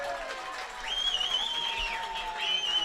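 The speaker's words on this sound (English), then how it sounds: "Cheering for the special teams coordinator." Fans at a Neenah versus Appleton North high school football game cheer and applaud, a steady crowd roar with whistles rising over it and a commentator talking throughout.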